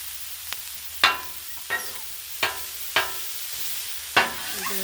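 Collard greens and mushrooms with herbs cook on a Blackstone griddle over low heat, giving a steady soft sizzle broken by several sharp spatula scrapes and taps spaced irregularly, close and without voices.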